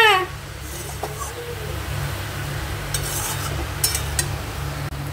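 A utensil stirs and scrapes cabbage curry around a frying pan with a soft sizzle underneath, in a home kitchen, with a few light clinks and scrapes over the steady frying hiss.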